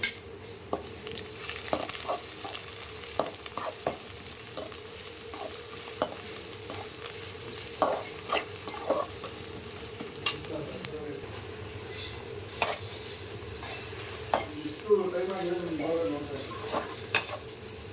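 Whole garlic cloves fry and sizzle in a hot pan while being stirred for a kelava fish curry, with a steady sizzle broken by frequent scraping stirs and clicks, and a brief voice in the background.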